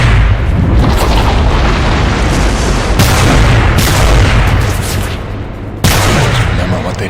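Dense, loud gunfire and booming blasts from the video game Lost Planet 3, a continuous barrage with sharp shifts at several points and heavy low rumble throughout.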